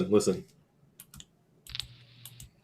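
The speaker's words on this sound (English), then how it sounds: "Just type a little lighter, man. Type a little lighter." Computer keyboard typing comes through as scattered light clicks and taps after a brief burst of talk at the start, sparse and moderately close.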